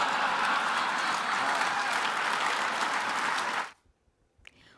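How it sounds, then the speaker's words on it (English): Crowd at a 2020 presidential campaign event cheers and applauds loudly and steadily for several seconds, then cuts off abruptly into near silence with a faint stray sound at the end. "While the crowd responded with cheers and laughter"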